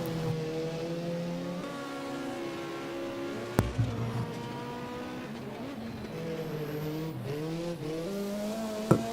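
A Ford Escort rally car howls up a European hill climb course, its engine note rising and falling through gear changes, with a couple of sharp knocks and brief tire noise near the end, loud and fairly close.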